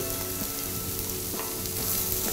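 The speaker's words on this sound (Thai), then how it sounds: "เราผัดให้พอเหลืองปุ๊บเราก็จะ ใส่ผักอื่นลงไปนะครับ เช่นแครอทเราก็ใส่แครอทลงไปนะครับ" Carrots stir-fried in a pan with finely chopped onion for a beef bolognese sauce, a loud steady sizzle with occasional stirring scrapes, close and without voices.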